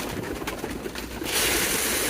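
A pair of domestic pigeons coos softly in a loft. The low, muffled coos repeat under steady background hiss, which grows brighter and louder near the end.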